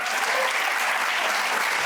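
Steady, full applause from an awards-ceremony audience honoring the North Jersey Boys Bowler of the Year, a brief close burst of clapping with no speech over it.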